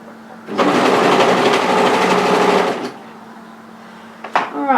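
A sewing machine runs one steady burst of about two seconds, stitching a cardigan side seam, close and loud, then stops, followed by faint handling and a voice at the end.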